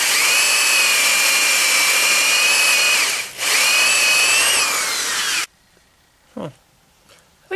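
A power drill bores holes for giant robot wheels, running loud and steady with a high whine for over five seconds, dipping briefly mid-run, then stopping abruptly before a few faint handling knocks.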